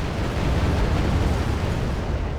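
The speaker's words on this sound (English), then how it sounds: "Let's see if we can call in some cluster bombs quickly." Cluster bombs in the video game Wargame: AirLand Battle detonate as a dense, continuous rumbling roar of overlapping blasts, loud and steady throughout without distinct separate booms.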